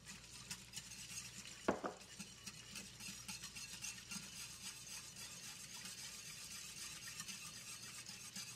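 Garlic stirred into a pan with softened shallots gives a faint, steady sizzle, broken by one sharp clink of a utensil against the pan early on; the cooking is heard alone, with no talking.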